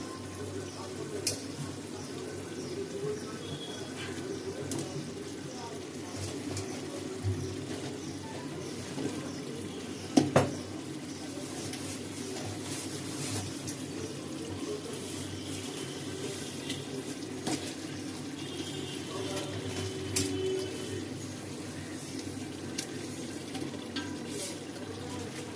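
Chicken pieces boil in a pot for biryani with a continuous low, watery bubbling and hiss. One sharp clatter stands out partway through.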